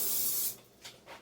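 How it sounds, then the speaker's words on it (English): Vegetable oil cooking spray hisses into a pan in one sharp burst lasting about half a second, followed by two faint short puffs, close and otherwise quiet. "we got our pan, hit it with some vegetable spray"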